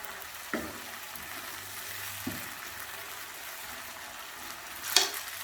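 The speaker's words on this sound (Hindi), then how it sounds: "इसको थोड़ा हाई फ्लेम पे अच्छे से फ्राई कर लेंगे" Spiced chicken with parsley fries on a high flame, a steady even sizzle with a couple of sharp clinks of a utensil against the pan.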